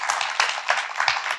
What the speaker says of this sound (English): Give her a round of applause before we jump into our quick section